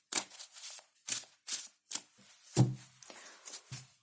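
Tarot cards are shuffled in quick, crisp bursts, about eight riffles separated by short pauses, close and fairly quiet.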